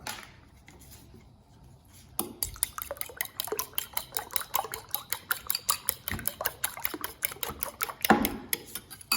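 Eggs being whisked in a bowl, a rapid run of rhythmic clinking strokes that starts after a quiet stretch and carries on steadily, close and fairly loud, with no talking.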